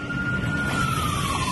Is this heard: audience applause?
no